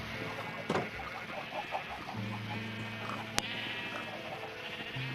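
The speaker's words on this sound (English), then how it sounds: "I'm really sorry for the annoying sheep" Sheep bleat repeatedly in Minecraft, a farm scene with several nasal wavering calls rising over a steady ambient bed, mixed with clucking chickens and a brief sharp click, all fairly close and without talk.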